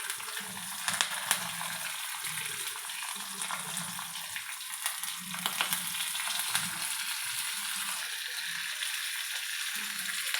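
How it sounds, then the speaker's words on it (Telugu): Tempering spices fry in a little hot oil on a stove for buttermilk curry, giving a dense, continuous close sizzle with faint low rumbles beneath. "స్టవ్ ఆన్ చేసుకొని దాంట్లో కొద్దిగా ఆయిల్ వేసుకోవాలి. తాలింపు కోసం"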